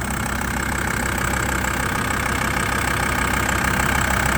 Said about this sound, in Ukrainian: Двигун заведений, показуємо вам стан двигуна.